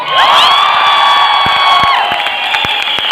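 An audience at a youth stage event in Lucknow cheers loudly, with sustained whoops and whistles over scattered claps throughout.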